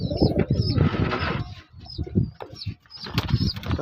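Pigeons in a rain-soaked cage with young birds coo in low, throaty bursts and flap their wings nearby, in close, busy, overlapping calls.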